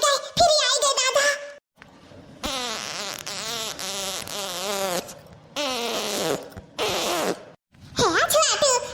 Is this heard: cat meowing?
no